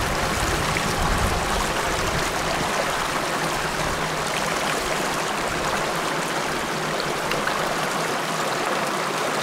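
A stream on Dartmoor, water rushing and babbling over rocks in a steady, full, close wash of sound that does not change, with no voices.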